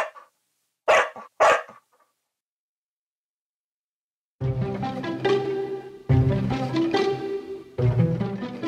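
A dog barks twice in sharp succession, then after a pause a continuous run of loud, harsh barking and growling sounds fills the rest, close and unaccompanied.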